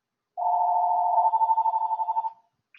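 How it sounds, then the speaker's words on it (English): A phone tone rings out on its own in a classroom, one clean steady tone lasting about two seconds that pulses slightly toward the end before cutting off into silence. "never mind the phone"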